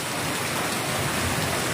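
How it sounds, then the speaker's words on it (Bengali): Heavy rain pours steadily during a thunderstorm, a dense, continuous hiss of falling water that stays loud and even throughout, with no voices over it. "বুঝতে পারছেন বৃষ্টিটা কীভাবে হচ্ছে।"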